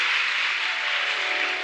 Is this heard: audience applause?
yes